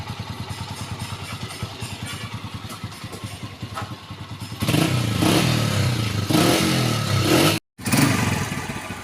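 A Honda Deluxe 125 motorcycle engine idles with a close, rapid chugging putter, then is revved into a louder, rougher roar that briefly cuts out before resuming, heard during rectifier wiring work.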